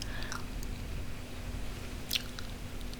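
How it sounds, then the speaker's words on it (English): Subtle gum chewing close to the microphone during a soft-spoken ASMR session, quiet wet clicks and squishes scattered over a low hum, one sharper smack near the end. "if the gum chewing is terrible"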